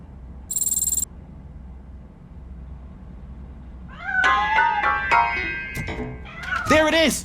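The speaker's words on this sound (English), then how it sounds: "That cat must be hiding inside." A cat in the video game Robocop Rogue City meows in a few rising and falling cries near the end, after a short electronic tone, with voices and game noise around them.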